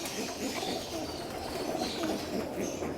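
Pigeons coo softly in a loft and aviary, a low continuous burbling of several birds close by over a light background hiss, with no speech.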